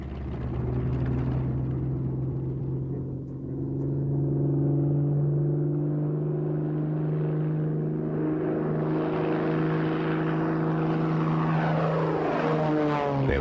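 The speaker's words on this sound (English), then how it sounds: "the first 190, known as V1, taxied down Bremen's airfield to put the new theories to the test" A Focke-Wulf Fw 190 V1 propeller fighter taxis on Bremen's airfield, its engine a loud, steady droning roar that swells and rises in pitch toward the end, with no voices.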